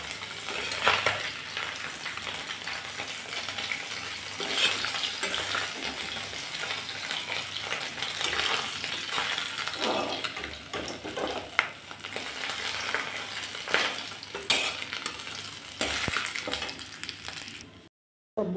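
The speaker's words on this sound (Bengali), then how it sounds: "সবগুলো মাছই আমি হালকা করে ভেজে নিলাম।" Fish frying in hot oil, a continuous crackling sizzle with occasional louder spits and utensil clinks, ending abruptly.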